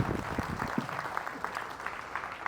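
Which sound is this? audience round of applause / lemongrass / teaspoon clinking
audience round of applause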